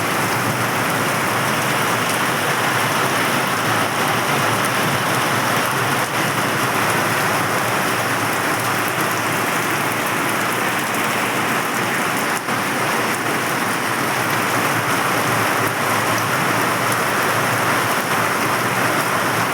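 Steady heavy rain drums on metal roof sheets, a dense, constant hiss and patter that continues without a break.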